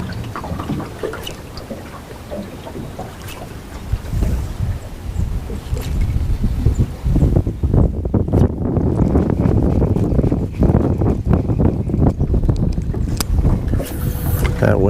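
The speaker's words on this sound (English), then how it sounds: "That wind is tough." Strong wind buffeting a microphone while fishing from a boat near a dock on a chilly day, a continuous rumbling roar that grows rougher and gustier in the second half, with some faint talk.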